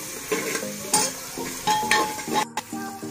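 Sliced onions going into a hot pan with oil and being stirred, a close, sizzling crackle broken by several distinct scraping strokes and light clinks of the spatula against the pan.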